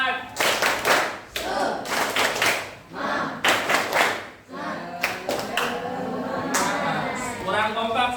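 Elementary classroom children clapping the 'tepuk semangat' rhythm cheer, bursts of patterned group claps interleaved with chanted voices, close and lively.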